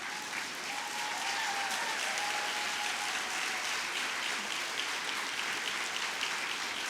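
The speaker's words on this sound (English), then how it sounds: "give a big round of applause to all those people who've been cheering for you" A graduation crowd claps in a broad, even roar of applause that holds steady throughout, with no break and no talk over it.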